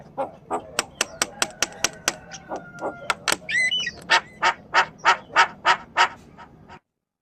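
A Javan myna gives a rapid series of loud, harsh squawking calls, about twenty sharp notes in rhythmic bursts, close and clear.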